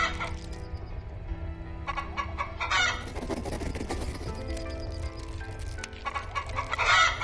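Chickens clucking in the Hearthlands farming game, several birds clucking continuously and fairly close, with a few louder squawks and bursts layered over a steady farmyard bed.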